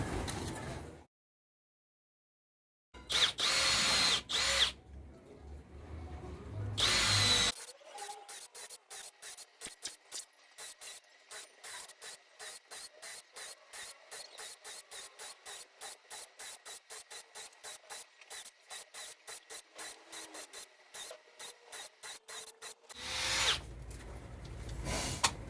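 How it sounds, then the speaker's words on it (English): Power drill fitted with an 8mm bit boring holes into a log for a bee nest, a long run of rapid, regular grinding bursts close by, with short handling noises before and after. "you'll need around an 8mm drill bit to make your holes"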